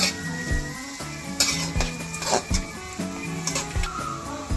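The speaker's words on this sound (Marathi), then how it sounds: "साधारणतः दोन कांदे आहेत बारीक चिरलेले सोनेरी रंग होईपर्यंत कांदा भाजून घ्यायचा" Two finely chopped onions fry in a pan until golden, a spatula clanking and scraping against the metal in irregular strokes over a soft sizzle, close and fairly loud, with no talking.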